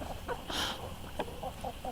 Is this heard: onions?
no